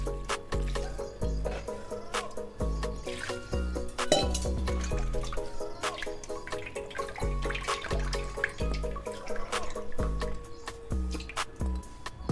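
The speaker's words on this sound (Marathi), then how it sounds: "खाली एक मी प्लेट ठेवलेली आहे, कारण हे भिजवताना त्याचं पाणी व्यवस्थित खाली पडावं" Water draining from freshly washed poha (flattened rice) through a sieve onto a plate below, with steady dripping and trickling plus soft splashes and clinks, close and continuous.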